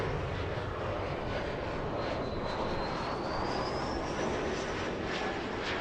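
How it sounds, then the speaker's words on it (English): A Boeing 777 airliner taxiing at LAX gives a loud, steady jet engine roar with a broad rushing hiss and a faint rising whine, heard continuously with no talk. "We'll stay with the 777 for just a few more seconds."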